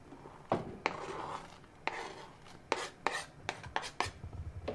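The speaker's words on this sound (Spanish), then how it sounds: "Es que yo ya estoy acabando de picar." A knife chops watercress on a board in a series of sharp, irregular taps, with isolated strikes at first and then a quicker cluster of cuts, fairly close and quiet.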